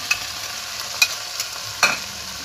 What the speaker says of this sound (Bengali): এবার আমি নারকেল আর মশলার পেস্টটা দিয়ে দেবো